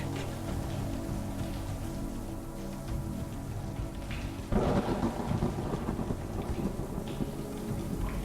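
Thunderstorm in the video game A Hat in Time: steady rain with a low rolling rumble of thunder throughout, and a louder crack of thunder bursting in midway that keeps rumbling under the rainfall, with no talking.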